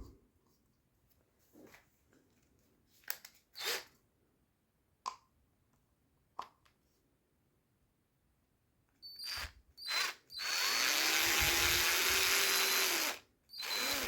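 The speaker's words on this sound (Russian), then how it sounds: "И вкручу саморезы по дереву." A power screwdriver drives wood screws in a house in an abandoned village, with short scattered bursts and clicks early on, then a loud, sustained whirring run near the end, close to the microphone.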